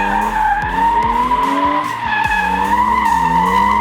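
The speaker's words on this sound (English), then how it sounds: "drift the crap out of this thing and do donuts" A BMW E36 M3 drifts and spins donuts, its tires squealing in a loud, sustained wail that rises and falls in pitch over a roaring engine, close by.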